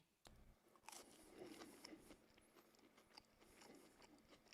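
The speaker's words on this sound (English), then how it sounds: "I apologize if the chewing sounds are really gross." Close-up crunchy chewing and biting of food coated liberally in a hot, tropical-style chili sauce, with irregular crisp bites and wet mastication continuing steadily at moderate volume, no talk.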